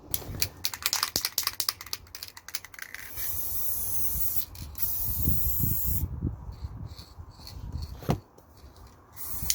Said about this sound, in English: So I'm going to spray varnish this